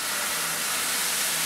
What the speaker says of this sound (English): just sear it and sizzle it all the way around